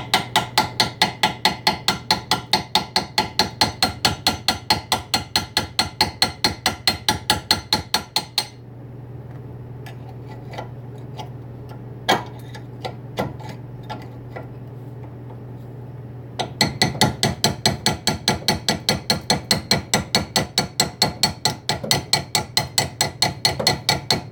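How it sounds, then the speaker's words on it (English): A hammer taps a rusty car weld in rapid, even metallic strikes. The strikes stop for about eight seconds, leaving a low hum with a few stray knocks, then resume at the same steady pace. "I'm going to try just gently tapping here"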